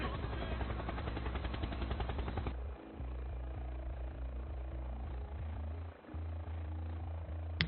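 An Airbus H145 helicopter in Microsoft Flight Simulator makes a continuous rotor and turbine drone. A rapid chopping pulse runs through the first few seconds, then a steadier engine hum carries on with a couple of brief dips.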